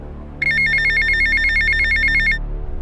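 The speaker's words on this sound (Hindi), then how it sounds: "दूसरे दिन डोली के पापा के पास अपने पड़ोसी रोहन का फोन आता है" A telephone rings with a bright electronic ringtone, a rapid repeating warble that starts abruptly, holds steady for about two seconds, then stops, loud and clear over a low hum.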